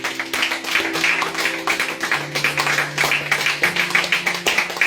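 A church congregation claps steadily and cheers in praise of Jesus, continuous rhythmic applause with sustained sung or shouted voices underneath, fairly loud and lively throughout.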